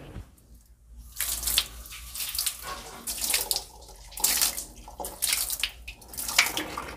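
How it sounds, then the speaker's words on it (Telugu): Water is poured and splashed over acid-cleaned toilet tiles and cement marks, making intermittent rushing, gurgling washes close by, separated by brief quieter gaps. "Water wash checking."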